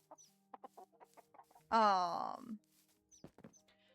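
A loud burst of clucking from a nearby chicken, lasting under a second, with soft scattered clucks and faint chirps before and after.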